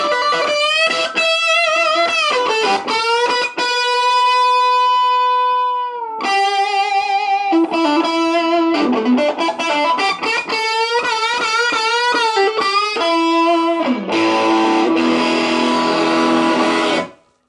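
Cranked, distorted electric guitar through a BOSS DS-1 distortion pedal plays aggressive riffs, long sustained notes and choppy chords, loud and continuous throughout before stopping.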